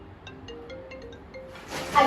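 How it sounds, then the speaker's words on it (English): A mobile phone rings muffled inside a purse, a short repeating electronic tone pattern at moderate level, followed by a louder rustle as the bag is handled. "I can hear the ring in this purse."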